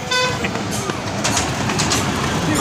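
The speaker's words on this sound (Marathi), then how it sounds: "Toy train wonder park." A small amusement park toy train at Wonder Park, Nerul, Navi Mumbai toots its horn repeatedly over a rumbling ride, with people chattering nearby in a busy outdoor setting.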